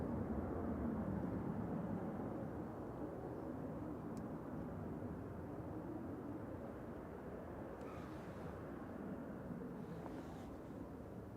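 A departing airliner at Manchester Airport, its steady engine roar heard from a distance, broad and even for the whole stretch with a slight fade, mixed with some wind.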